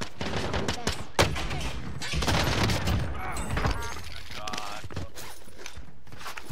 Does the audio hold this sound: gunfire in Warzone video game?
yes